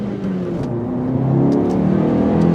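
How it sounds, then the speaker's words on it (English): A Mitsubishi Colt Ralliart with a 1.5 turbo engine accelerates hard, its engine note rising steadily and sounding loud and close throughout, with no one speaking. "Driving the Mitsubishi Colt Ralliart."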